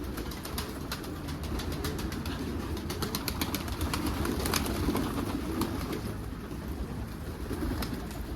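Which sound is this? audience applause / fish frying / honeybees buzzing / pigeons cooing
pigeons cooing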